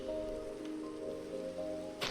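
Steady, soft rain falls at night in the Minecraft video game, a continuous hiss that stays even throughout with a brief brighter swell near the end.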